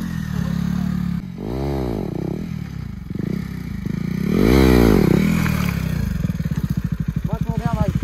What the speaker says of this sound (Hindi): अब हमारा भाई स्टॉपी मारने वाला है, देखते हैं कितनी अच्छी स्टॉपी पड़ती है